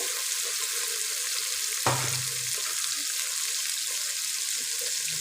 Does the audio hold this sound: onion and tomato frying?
yes